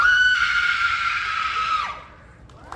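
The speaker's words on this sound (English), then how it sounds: "Let's all hear how you would scream!" A woman performing a scream on stage at a special effects show in Universal Studios Hollywood, one long loud shrill sustained cry that drops off sharply near the end, followed by quiet room noise.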